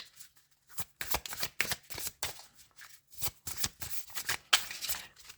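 A deck of tarot-style reading cards is shuffled and cut by hand nearby: bursts of crisp riffling and flicking card sounds in quick clusters separated by short pauses, with no talking.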